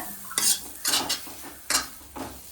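A spoon stirs chicken curry with masala in a metal pot, giving four separate scraping, clanking strokes spaced unevenly, close and fairly loud, with no talking.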